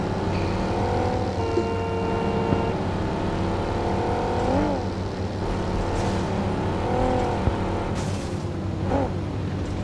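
A car engine drives in the mobile battle royale game BGMI, a loud, steady drone with rising and falling pitch as the vehicle speeds up and slows, with no speech.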